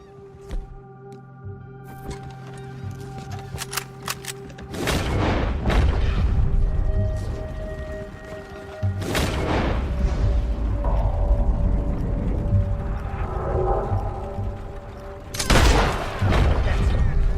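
Gunfire and heavy booms from Red Dead Redemption 2 sound in loud bursts over a busy battle din. Voices and music play beneath them, with strong blasts near the start, the middle and the end.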